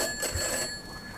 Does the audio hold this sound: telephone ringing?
yes